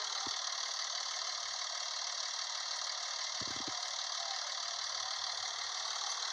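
A tractor engine runs steadily while the machine is stuck, a constant loud mechanical drone filling the clip, with a couple of brief low thumps breaking through.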